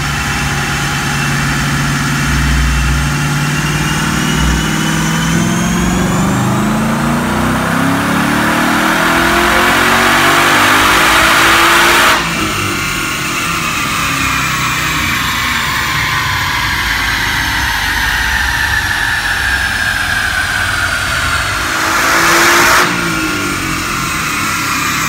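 A supercharged Ford Mustang S550 with an Edelbrock TVS2650 kit roars through a dyno pull, its engine note climbing steadily from idle to a loud high-rpm wail, then dropping and rising again with a supercharger whine, close and without talk.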